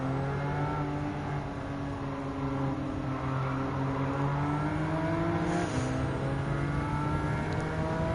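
Porsche 911 Carrera RS Club Sport Type 993 racing in Gran Turismo 7, a steady loud engine drone holding high revs with a brief shift in pitch partway through, continuous and close, with no talking.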